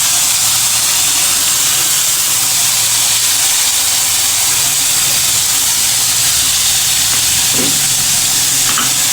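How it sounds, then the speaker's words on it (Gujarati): Chopped onion dropped into hot oil with crackling spices and chilies, giving a loud, steady, close-up sizzle and hiss that holds evenly throughout, with no talking. "આપણા મસાલા તતડી જાય એટલે મરચાં આપણે તરત જ ડુંગળી મૂકી દેવાની છે"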